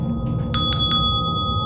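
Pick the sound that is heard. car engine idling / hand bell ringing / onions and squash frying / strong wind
hand bell ringing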